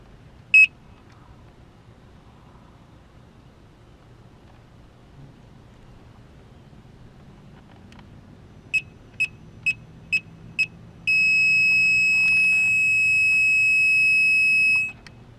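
A Gotway Msuper V3 electric unicycle beeps once briefly, then a quick series of five evenly spaced electronic beeps, followed by one long sustained tone, all over quiet background hum.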